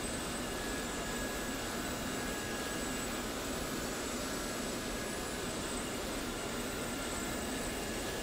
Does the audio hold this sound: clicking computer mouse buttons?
no